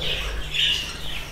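Newly hatched bird chicks squawk insistently while being fed, a close, continuous high-pitched begging chorus with one louder burst in the middle.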